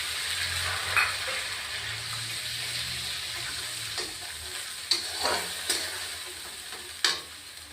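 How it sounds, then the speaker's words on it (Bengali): Green chili paste frying in a pan for an egg curry, giving a steady soft sizzle with a few sharp scraping stirs of a spoon against the pan. "কাঁচা লঙ্কা বাটাও দিয়ে দিলাম"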